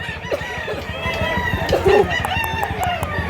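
Chickens and roosters cluck and crow together at a Mantalungon, Cebu poultry spot, a busy layered chorus close by with one brief sharper call standing out.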